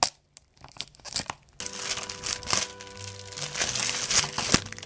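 Plastic wrap is torn and crinkled off a Kingdom Hearts 3 video game case up close, with a few sharp taps followed by steady rustling and tearing.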